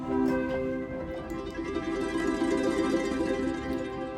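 A soft, sustained orchestral string texture with a shimmering, tremolo-like bowed quality holds a rich chord at moderate volume, from Spitfire Audio's Impressionism sample library.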